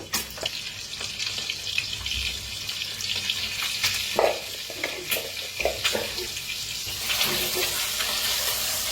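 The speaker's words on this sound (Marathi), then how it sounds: "तसे आपले अंडे कसे फ्राय व्हायला लागले" Eggs frying in a pan, seasoned with salt and turmeric for an egg curry, giving a continuous close sizzle with occasional clinks and stirring sounds and brief bursts of louder crackle.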